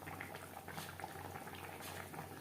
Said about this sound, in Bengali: গ্রেভির সাথে মাছ আরও 3-4 মিনিট কুক করে নেব।